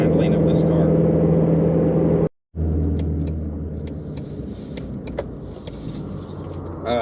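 A 2020 Shelby GT350R driving a twisty coastal road, its engine a steady low rumble throughout, broken by a brief gap, with cabin noise and faint intermittent ticks over the drone.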